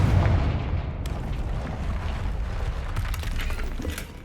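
A Confringo blasting spell detonates in Hogwarts Legacy, a heavy booming explosion rumbling up front, followed by a sustained crackling roar of debris and fire that slowly fades.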